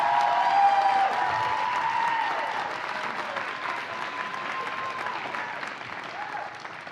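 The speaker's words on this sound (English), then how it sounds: "How about a big round of applause for Maggie the Magnificent?" An audience at a university awards ceremony applauds an honoree, loud, dense clapping that gradually thins and softens, with faint crowd noise under it.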